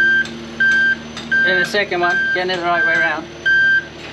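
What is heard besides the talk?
boat lift moving, warning beeps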